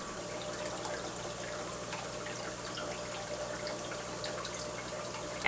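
Water carrying tiny baby fish is poured into a planted Madagascar lace plant aquarium, a soft, steady trickle and faint splashing that continues without a break, close by and quiet, with no talking.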